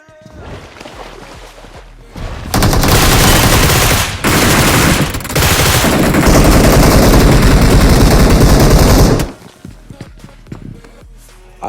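Bursts of automatic gunfire from a BGMI battle royale firefight against enemy players, loud and sustained for several seconds with brief gaps between volleys, then cutting back to quieter ambient game sound.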